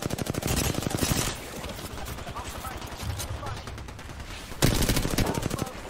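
Shotgun and rapid gunfire in Apex Legends Arenas, with dense bursts of shots that drop away, then a loud close blast and more rattling fire near the end; voices are faint in the mix.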